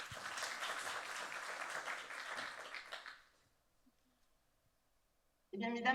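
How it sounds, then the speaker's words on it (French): Applause from a conference audience on Aiguillon Bay for a remote speaker: a dense, even clapping crowd for about three seconds that stops abruptly, near silence, then a voice begins. "on peut l'applaudir même si elle est loin"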